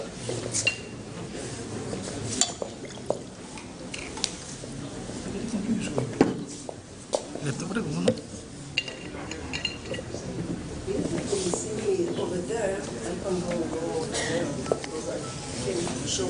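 Glasses, dishes and cutlery clink repeatedly while drinks are served at an academic geography conference, with scattered sharp chinks under steady nearby talk and room murmur.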